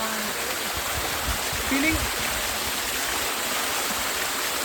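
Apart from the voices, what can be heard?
Padghe waterfall flowing water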